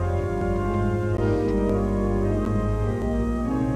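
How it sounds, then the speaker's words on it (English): Pipe organ at a royal wedding, an organ presented by King George III in 1719, playing a full, reverberant introduction with sustained chords and a deep pedal bass filling the church, with no talking. "What you're hearing now is an introduction on the organ"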